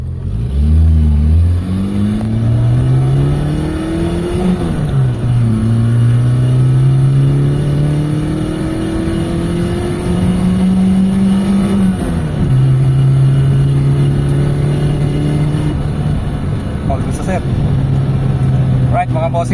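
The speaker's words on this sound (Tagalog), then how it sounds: "So test drive natin yung kotse niya." A Mitsubishi Lancer engine revs up and settles repeatedly during a test drive after a misfire repair, the engine tone rising and falling close by with the car's interior noise underneath.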